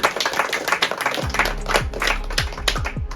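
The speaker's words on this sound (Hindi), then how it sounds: "जोरदार ताली हो जाएगी" Clapping at an event, a dense burst of claps running for a few seconds alongside low, steady background hum.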